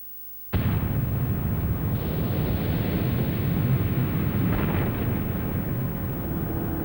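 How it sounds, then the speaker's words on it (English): A huge explosion effect for the Big Bang that begins the universe: a sudden onset followed by a sustained, dense, roaring rumble that stays loud and heavy without fading. "Time and space began with a big bang"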